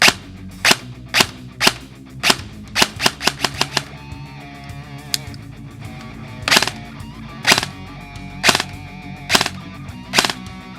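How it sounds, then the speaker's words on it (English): A Classic Army Nemesis airsoft gun fires on trigger taps, sharp snappy shots in an irregular sequence: a few single pops, a quick rapid cluster, then evenly spaced single shots, loud and close. "As a quick demonstration of that, I'm just going to tap the trigger and it is going to shoot."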